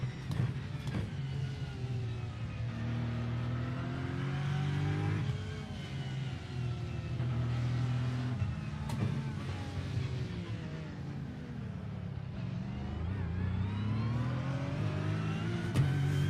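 Race car engines roar steadily in the iRacing sim during a Porsche Cup race, pitch climbing and dropping through gear changes, with a Porsche close behind on track.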